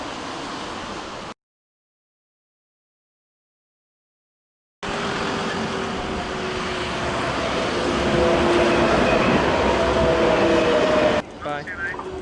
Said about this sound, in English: the tram doesn't really terminate here, it just comes in